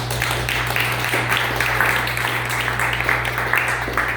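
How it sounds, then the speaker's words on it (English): Campaign volunteers applaud at a Republican congressional candidate's press event, a continuous crowd clapping over a steady low hum, fairly close and even throughout. "So, round of applause for all of you for your sacrifice and your time."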